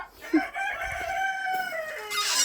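Close clucking from a bantam hen in a farmyard, a series of drawn-out, wavering calls with one short sharp note near the start, heard alone with no talking.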